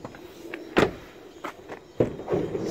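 The sliding side door of a Ford Transit T350 high-roof long-wheelbase van rolls and thuds in a few short knocks and clunks, near and moderately loud, with no talking.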